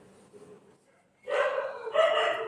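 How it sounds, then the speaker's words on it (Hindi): Dogs bark outdoors in an open setting, faint low yips at first, then a loud sustained burst of barking at close range that carries on to the end. "कुत्ते बहुत भौंक रहे हैं मेरे इधर"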